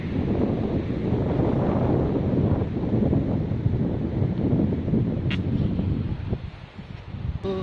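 Strong wind roars across a beachside campsite, a loud continuous buffeting rush with rustling and low rumble, close to the microphone with a few faint clicks near the end.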